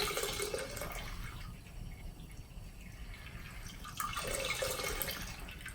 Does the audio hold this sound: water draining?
yes